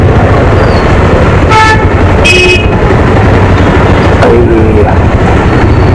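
Evening traffic crawls through the crowded main market street of Diphu town, Karbi Anglong, with a steady loud rumble of vehicles and several short car horn toots rising above it, close by.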